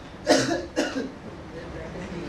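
Two quick, harsh coughs close to the mic, one right after the other, followed by quiet room noise.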